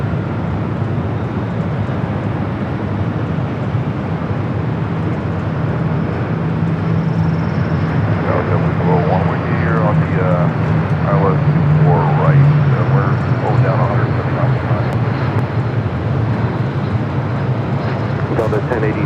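Heavy jet airliners roaring in to land at LAX, a loud sustained engine drone that swells toward the middle and fades, heard from the airport surroundings while people talk.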